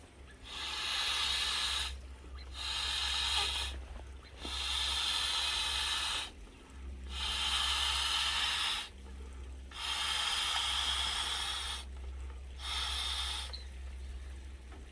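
Air rushing through the valve of a Big Sky Dreamer ultralight inflatable camping pillow: seven or so long, close breathy hisses in a steady rhythm, each about 1.5 seconds with short pauses between.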